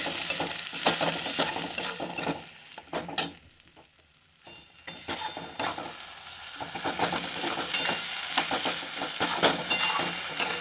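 Spice paste of salt, turmeric, coriander, cumin and chilli powder sizzles and fries in oil over a medium flame, with steady stirring and scraping in the pan throughout and a brief quieter lull partway through.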